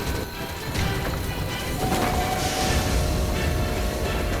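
A video game train rumbles and clatters steadily at a moderate level, with rattling wheel noise and a brief whistle-like tone partway through.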